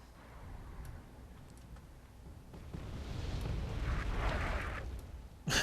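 Artillery explosions in the Wargame European Escalation video game: a low, rumbling barrage that swells in the middle and ends with a sharp close blast, with faint ticking over a steady background.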